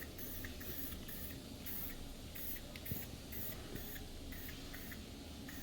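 Spray gun laying down a first coat of clear over freshly painted BBS RS771 wheels, a steady close hiss broken into regular bursts as the trigger pulses, with no talking.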